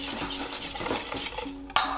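Carrot cake batter with crushed pineapple stirred in a bowl, a steady scraping swish of utensil against the bowl, with a sharper clatter near the end, no voices.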